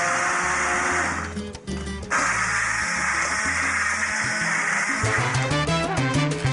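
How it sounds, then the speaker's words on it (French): Immersion blender whirring through soup in a saucepan, a loud motor buzz that dips and cuts out briefly, then restarts in bursts with shifting pitch as the blade churns the liquid. "Je vais pouvoir mixer cette soupe avec mon mixeur plongeur."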